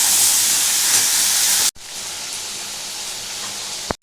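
Okra and prawns frying together in a pan for a bhindi chingri masala give a loud, steady sizzling hiss close by, broken by one brief cut.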